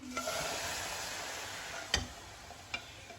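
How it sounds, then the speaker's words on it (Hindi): Ghee added to a hot pan sizzles in a steady, broad hiss, joined by a couple of sharp ticks from a utensil knocking against the pan. "इसमें हम थोड़ी सी घी डालेंगे"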